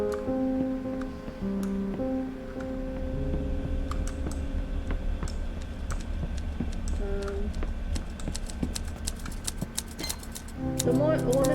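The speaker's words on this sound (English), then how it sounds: "I can hear the sound of footsteps and the clacking of typewriter keys" Rapid, irregular clacking of typewriter keys with occasional footsteps in a busy office in the game Gerda: A Flame in Winter, heard under a steady background music bed.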